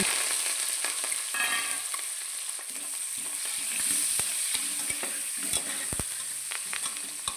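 Onions and curry leaves frying in oil for egg biryani make a loud, continuous sizzle nearby, punctuated by frequent clicks and scrapes of a stirring spoon against the pan.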